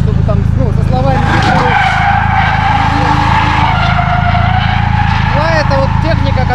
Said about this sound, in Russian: мы вот здесь разгонялись и сюда именно в дрифте прилетали, как бы уже боком закинув тачку